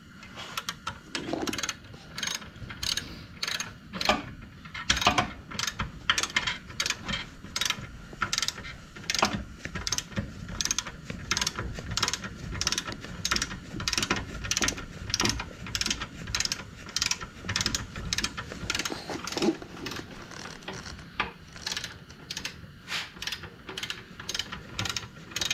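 A ratchet wrench on a Doodlebug mini bike clicks fast and steadily for about twenty-five seconds, close and loud, as the motor is tightened down, with short pauses between bursts of ratcheting strokes.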